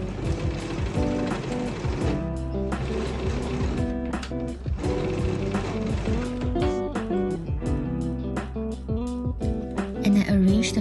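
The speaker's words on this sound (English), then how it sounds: "I sew part of the opening right side together with machine" A sewing machine runs steadily up close, its rapid mechanical chatter and whirring stitching fabric for a scrunchie, with brief pauses and speed changes throughout.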